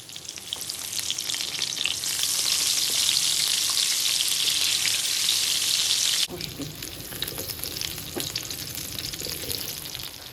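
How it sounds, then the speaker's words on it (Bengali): Gola kebabs frying in hot oil make a loud, steady hiss that drops abruptly to a quieter bubbling sizzle partway through, heard close with no talking. "এটাকে ফ্রাই করতে হবে।"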